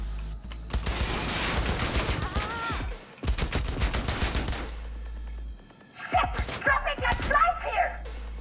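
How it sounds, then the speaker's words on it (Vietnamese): Bursts of automatic gunfire from a Cyberpunk 2077 firefight crackle in dense volleys, pausing briefly between salvos, with someone talking over parts of the shooting. "Đâu nó bắn tôi vậy?"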